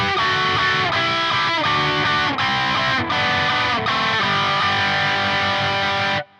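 Distorted electric guitar playing a riff, loud and close with repeated strummed chords in a driving rhythm and short gaps, ending abruptly, with no talking.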